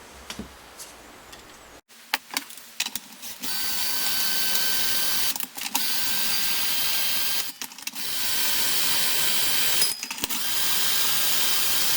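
Strings being loosened and removed from a 1992 Fender Prodigy Stratocaster: bursts of fast, whirring, ratchety winding at the tuners separated by short pauses, fairly close and loud, with no speech.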